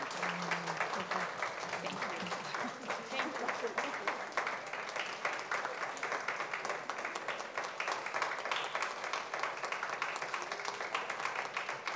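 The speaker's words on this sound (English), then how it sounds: "she deserves a huge round of applause" A small audience at a school district governing board meeting gives a round of applause: about twelve seconds of sustained, even clapping heard from a little distance in a fairly quiet room.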